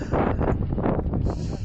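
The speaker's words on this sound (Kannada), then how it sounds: "ಅಷ್ಟು ಜೋರಾಗಿ ಗಾಳಿ ಹೊಡಿತಿದೆ" Strong wind buffets the microphone on a foggy hilltop during a motorbike ride to Mudigere, a loud, steady roar with constant rumble and gusty flutter throughout.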